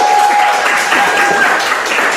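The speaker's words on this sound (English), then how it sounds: "Do we get a live attendance applause?" Live audience applause at an HR conference, a dense continuous patter of clapping heard fairly loud and steady through the short stretch, with a faint tone underneath.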